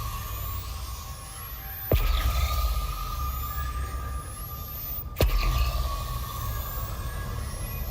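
Ship scanner tones from Elite Dangerous: two crisp descending electronic sweeps roughly three seconds apart over a constant droning cockpit hum with faint gliding high tones.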